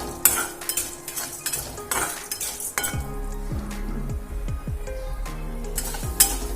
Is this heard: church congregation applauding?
no